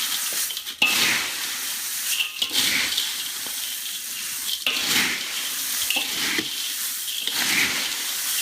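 Chevda snack being stirred in hot oil, with broad sizzling hiss and several scraping stir strokes at irregular intervals, close and fairly loud, no talk.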